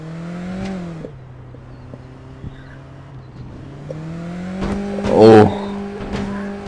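Car engine in the video game APB Reloaded, a steady droning hum that dips, then rises in pitch as the car revs for a long jump, with a loud crash or landing thud near the end.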